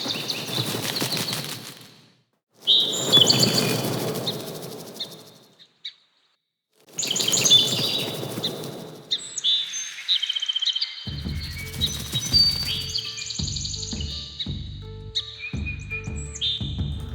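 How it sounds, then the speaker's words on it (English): Sparrow chirps layered with fluttering wing flaps, built as sound design for a game trailer: bursts of bright chirping separated by short gaps, then quick overlapping tweets over a beating flap texture, close and clean with no talk. "you've got the sparrow chirps, but you've also got the wings"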